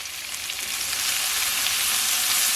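Chopped chicken frying in cooking oil in a pan, a steady loud sizzle that holds even and continuous throughout with no one talking.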